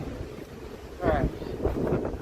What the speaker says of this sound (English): Ooh, that wind. That feels nice.